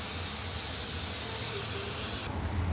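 A pressure cooker with banana flower inside vents steam in a loud, continuous hiss, close by and alone, its tone shifting abruptly just before the end.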